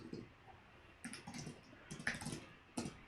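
Someone types on a computer keyboard, a handful of quiet, scattered keystrokes and clicks in short bursts with pauses between them, in an otherwise still room.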